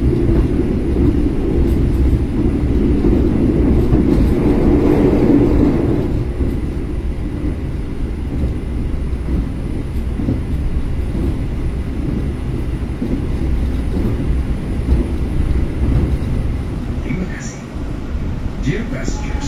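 The KA Tegal Bahari New Generation passenger train runs between Jakarta and Tegal, heard from inside as a steady low rumble under ongoing talk.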